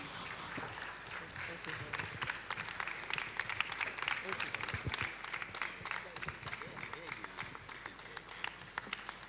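A church congregation gives a round of applause to welcome a doctor speaking at a health hangout, with many crisp claps forming a lively, sustained ovation at a moderate distance, with some voices mixed in.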